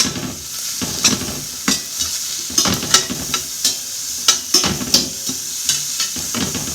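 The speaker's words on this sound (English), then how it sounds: "This is called sautéing." Food sautéing in oil in a pan for a frittata, with a continuous sizzle and hiss. Regular scraping stir strokes come about twice a second, close and fairly loud, with no talking.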